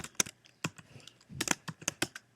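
Typing on a computer keyboard while entering a MATLAB command, a short burst of crisp close key clicks in an uneven rhythm, with no talk.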